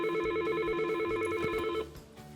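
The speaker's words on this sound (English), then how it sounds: "And look, that's my phone calling." A Yealink desk IP phone rings with an incoming call, a loud repeating electronic trill in fast pulses that cuts off after about two seconds.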